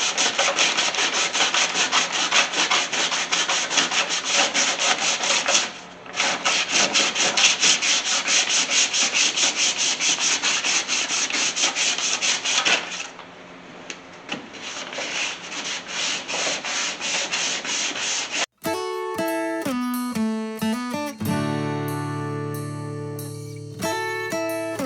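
Body filler on a 1981 Chevy C30 Squarebody is sanded by hand with a long, continuous rasping scrub that pauses briefly twice, then gives way to clear tonal music near the end.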